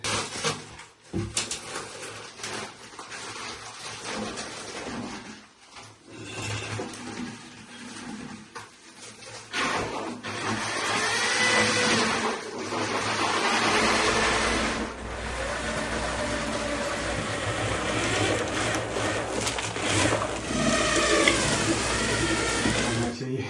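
Self-levelling floor compound being mixed with a power drill paddle in a bucket, a steady, loud whirring churn that runs for most of the stretch with brief pauses, and a voice talking over it now and then.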